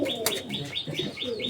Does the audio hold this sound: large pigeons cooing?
yes